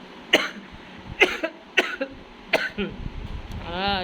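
A series of harsh coughs, four or five sharp bursts in quick succession, close by, followed by rasping breaths.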